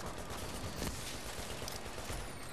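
Turret gunfire in The Division during a firefight at the Amherst Apartments, a steady, dense rattle of automatic fire that runs without pause, somewhat distant and mixed into busy game noise.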